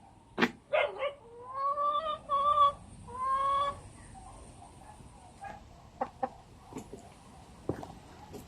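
Chickens cluck in a short run of harmonic calls, joined by a dog's bark and a few sharp knocks, fairly close with quiet gaps between.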